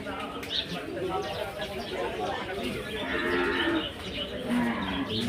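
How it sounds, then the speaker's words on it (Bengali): Water buffaloes in the busy Gabtali cattle market, with low bovine moos rising through a noisy crowd and people talking nearby, while birds call faintly in the background. "খুব সুন্দর দুইটা মহিষ"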